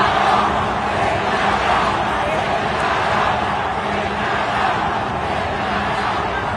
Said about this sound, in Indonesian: Meski kalah, sorakan Sintayong kembali terdengar dari para pendukung setia.